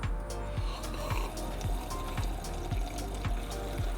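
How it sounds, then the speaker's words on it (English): A person sips water in quick, evenly spaced gulps that repeat about twice a second, close and fairly quiet over a steady low background. "take a sip of water"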